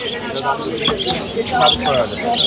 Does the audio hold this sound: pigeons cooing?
yes